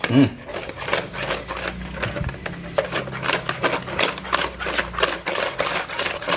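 Eggs and sugar are beaten by hand with a whisk in a bowl, rapid rhythmic clicking and scraping strokes at close range, with a voice briefly heard over it.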